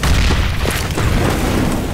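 A grenade blast in the game CS:GO, with a dense low-end boom and rumble that fills the whole two seconds, loud and close, and no voices.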